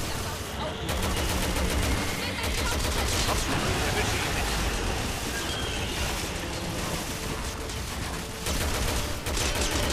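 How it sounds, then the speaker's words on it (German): Dense, continuous gunfire from shooting at yellow weak points on a boss in the video game Resident Evil 6, a loud sustained barrage with rumbling low end and scattered bursts running throughout. "Du musst auf diese gelben Dinger schießen."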